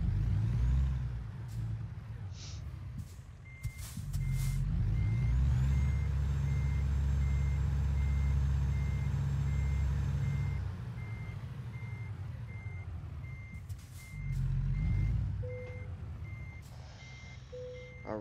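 Reversing beeps from a truck parking a trailer in American Truck Simulator, a steady repeating electronic tone over a low idling diesel engine rumble, with engine swells and the hiss of air brakes.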